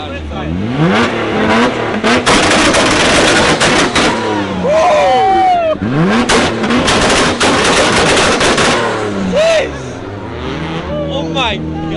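A loud car engine at a car show revs hard and rises and falls in pitch, with sharp crackling pops bursting from the exhaust. Voices can be heard among the noise.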